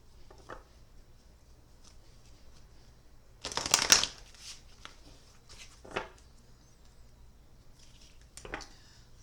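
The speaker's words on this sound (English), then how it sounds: "I want to grab these animal cards here just to see" A deck of animal cards being shuffled by hand in a quiet room, with soft scattered riffles and one burst of louder card flutter partway through.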